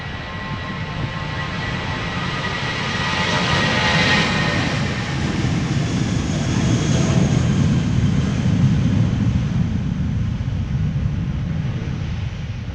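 An Airbus A320 takes off from Amsterdam Schiphol, its jet roar swelling into a broad, steady wash that holds loud and close for the whole stretch, with no voices over it.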